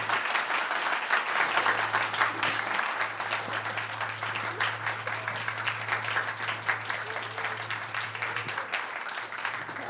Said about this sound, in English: can we give all four presenters a big round of applause?